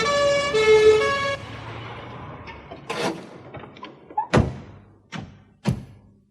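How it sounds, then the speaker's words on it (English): An ambulance siren wails for about a second, followed by several loud thumps and knocks at irregular intervals. "A siren sounded in the distance."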